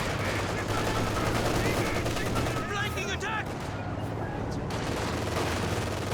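Machine gun fire in the real-time strategy game Company of Heroes 2, a dense, continuous rattle of automatic bursts mixed with other gunfire and battle noise, steady and loud throughout, with a few brief voice calls.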